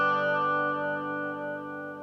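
A guitar prototype built around a PT2399 echo chip plays a sustained chord through a chorus modulation effect with depth at maximum, the tone gently wavering as it slowly fades over about two seconds, with no voices.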